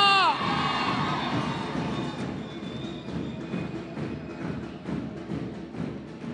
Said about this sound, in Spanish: Y el grito de toda la gente de la juventud peronista.